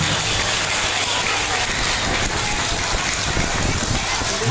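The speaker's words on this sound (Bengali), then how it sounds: "জোরে নিজেদের জন্য হাততালি দাও খুব ভালো হয়েছে" Students at a Teachers' Day school celebration clap for themselves, a dense, loud, continuous wash of many hands applauding together.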